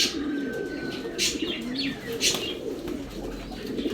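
Soft cooing from a medium-sized female racing pigeon bred for tournaments, a few low murmured coos close by with light chirps and faint wing rustle, no talking.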